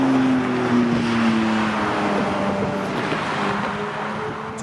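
A manual Porsche 911 GT3 engine revs hard under acceleration, a loud, steady sustained roar with a falling pitch shift early on, heard close inside the car.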